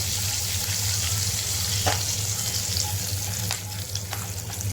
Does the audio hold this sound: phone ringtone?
no